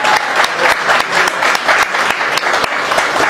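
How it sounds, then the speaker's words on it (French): A Paris audience at an album presentation for a singer claps loudly, a close, dense burst of applause with sharp individual claps standing out and no break throughout. "Je vais demander l'applaudissement très fort."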